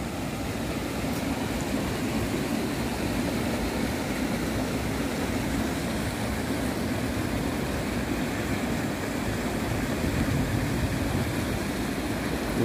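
Water rushes through a sluice gate near Canning, a steady, loud and unbroken roar of flowing water that stays even from start to finish with no voices.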